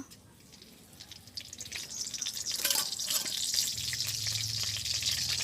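Bay leaf dropped into hot oil in a kadai for tempering dal, giving a steady bright sizzle and crackle that swells after the first seconds and holds loud to the end, with no talking.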